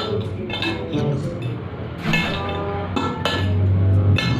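Instant Indomie noodles stirred in a bowl, giving repeated light clinks and scrapes of a utensil against the dish in an irregular rhythm, close and fairly loud, with no talking.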